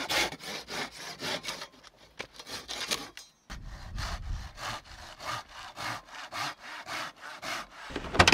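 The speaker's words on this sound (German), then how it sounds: "sägen ein bisschen Holz zurecht, denn hier oben gibt es ja sonst keine Bäume" Firewood being sawn by hand at a campsite high in treeless Norwegian terrain, a steady rhythmic rasp of back-and-forth strokes, close and clear, with a short pause partway through before the strokes resume.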